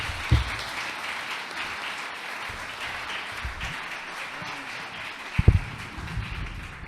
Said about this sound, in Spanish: Ahora sí, un aplauso.